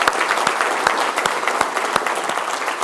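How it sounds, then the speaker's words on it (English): An audience claps steadily, a dense patter of many hands applauding together at moderate loudness with no voices over it. "Can we give all of our change makers a big round of applause?"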